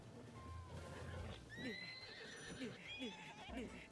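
A horse whinnies and neighs several times in Zelda: Tears of the Kingdom, with rising and falling calls and some hoof clip-clop, over game ambience while someone talks.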